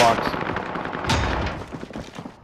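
Rapid gunfire in a shooting video game, a dense burst of shots fading over a couple of seconds, heard close and fairly loud with a player's voice talking over it.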